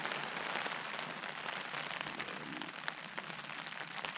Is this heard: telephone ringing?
no